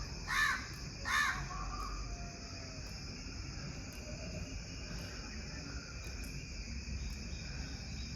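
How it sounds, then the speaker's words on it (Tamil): Two caws from a crow ring out early, then fade into a steady outdoor bed of chirping insects after rain, fairly quiet and distant. "அழக காக்கா சத்தம் கேட்கறதும்"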